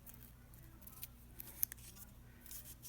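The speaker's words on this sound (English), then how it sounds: "So I try folding it back the other way and cutting that down a little bit." Scissors snip through folded tissue paper for craft flowers, making a few faint, sparse cuts over a low background hum with no talking.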